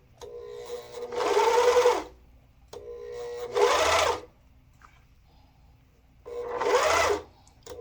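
Lumina Dahlia coverstitch machine stitching through two layers of fabric: three close, steady bursts of rapid mechanical whirring, each lasting about a second, separated by short quiet pauses.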